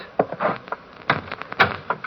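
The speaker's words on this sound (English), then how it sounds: "Shut the door, Diane." A door is pushed shut in a radio mystery scene, a short cluster of close wooden knocks and rattles with a firmer thump near the end.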